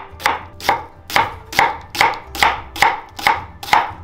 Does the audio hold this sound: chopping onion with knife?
yes